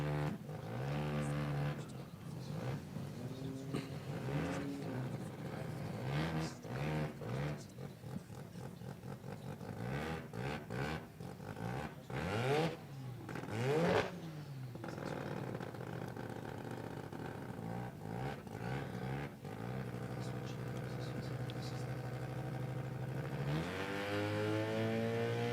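A drag racing car making a run at a drag strip event, its engine roaring loudly with rising and falling revs over a long pass while a commentator talks throughout.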